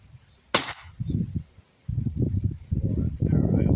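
Umarex Glock 17 Gen 5 pellet pistol firing outdoors: one sharp, loud crack early on, followed by rustling, handling noise and low murmuring.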